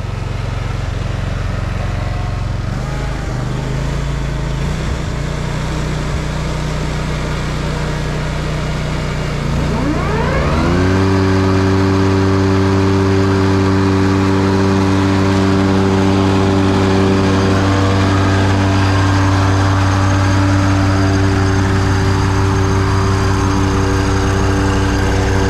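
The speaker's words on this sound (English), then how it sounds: "I'm gonna start weed whacking while she's mowing." A lawn mower engine runs loud and steady nearby, its drone shifting to a stronger, higher-pitched hum partway through as the mower is engaged, then holding constant to the end with no talk.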